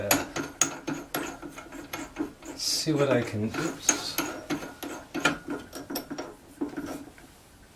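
Clicking, ratcheting mechanical sounds in quick bursts as a chuck is turned, with a person speaking briefly over the clatter.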